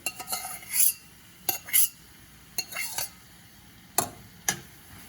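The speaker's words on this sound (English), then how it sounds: "And finally I'm going to add the cooked millets" Cooked millets going into a pan of vegetables for an oil-free savory upma, heard as a handful of short, sharp spoon clinks and scrapes against the pan, separated by brief quiet gaps.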